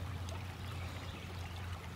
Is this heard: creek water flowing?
yes